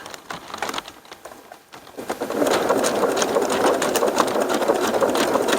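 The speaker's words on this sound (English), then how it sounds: "Make about, a ½ inch stitch going back and forth across that center there." A sewing machine stitches back and forth across the center of a seam, a steady mechanical whir that starts softly, pauses, then runs continuously and loud for several seconds.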